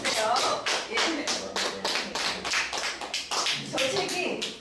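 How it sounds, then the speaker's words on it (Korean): A small lecture audience claps in a quick, irregular run of distinct hand claps, close and fairly light, each clap standing out separately rather than blending into a roar. "박수 쳐주세요"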